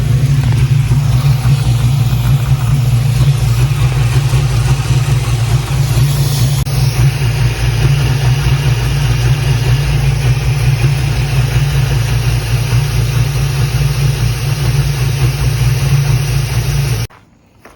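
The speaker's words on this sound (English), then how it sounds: "It's running good idle at 50, 55, but I think it's dropping when I hit the gas." A Pontiac GTO engine idles steadily at close range, a loud continuous low rumble holding even throughout before cutting off abruptly near the end.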